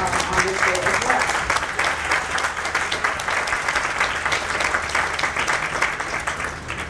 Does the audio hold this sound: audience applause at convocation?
yes